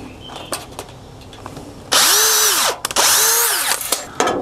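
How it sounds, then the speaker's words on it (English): Two loud bursts of a power drill spinning up and winding down while pre-drilling screw holes over flashing, each lasting about a second, after some light handling noises. "I'm just going to pre-drill my holes here real easy."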